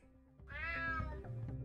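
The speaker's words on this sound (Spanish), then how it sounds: "Maldito gato." A cat meows once, loud and close, a drawn-out tonal call with a rising then falling pitch, followed by a softer low murmur.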